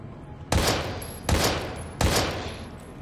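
Three loud, sharp pistol shots in the video game Daymare 1998, evenly spaced about three-quarters of a second apart, each ringing out with a short decaying tail over a low ambient background.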